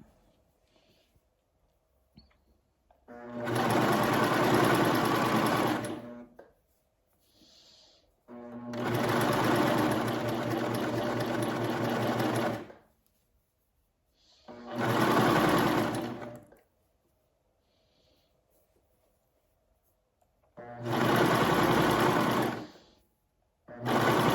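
A sewing machine gathers fabric for a peplum dress, running in four loud, steady whirring bursts of a few seconds each, separated by short quiet pauses.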